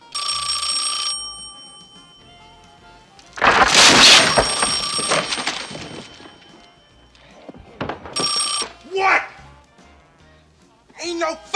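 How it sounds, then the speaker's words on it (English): An old telephone rings in a few separate bursts, loud and close, with bumps and clatter between the rings. "someone's making a phone call"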